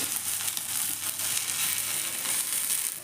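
Moong dal cheela made with semolina sizzles in a hot pan, a steady close crackling fry that holds evenly throughout with no voices.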